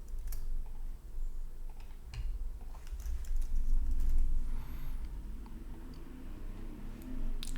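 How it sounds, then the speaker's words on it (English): Keys clack on a computer keyboard in a quiet room, a quick irregular patter of soft taps and clicks over a low background hum. "we're going to type in"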